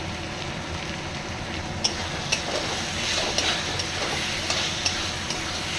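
Mutton with cumin powder sautéing in a pan gives a continuous sizzle with scattered ticks and scrapes of a stirring spoon against the metal.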